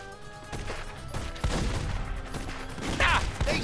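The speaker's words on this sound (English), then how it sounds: "Ah, they shot me! I'm hit, boss!" Bursts of gunfire in The Godfather video game, a rapid fusillade of close, loud shots with a few sharp single cracks, cutting through game noise.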